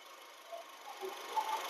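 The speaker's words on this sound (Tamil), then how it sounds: "பாருங்க வண்டி இன்ஜின் சவுண்டை காட்டுங்க. சிஎன்ஜி அட்டாச்சோட இருக்கு." A 2011 single-owner car fitted with a CNG kit idles with a faint, steady engine hum. Light mechanical ticking comes and goes under it, with no talking.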